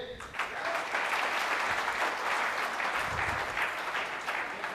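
A crowd at a marketing training session claps loudly and continuously, a thick, even wash of applause with no speech over it.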